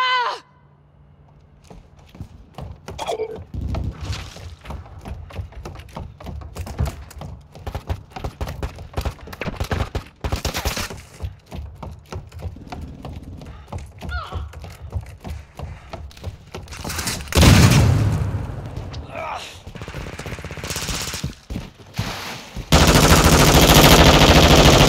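Rapid automatic gunfire rattles in bursts during a Call of Duty Modern Warfare 2 Team Deathmatch on Valderas Museum, mixed with scattered single shots and a heavy louder stretch near the end.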